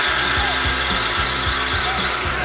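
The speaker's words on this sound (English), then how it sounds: "and that's how I drill the inside hole." A lathe with a 3-jaw chuck drills an inside hole, giving a steady, close whirring grind with regular low thumps as the workpiece turns, and no talking.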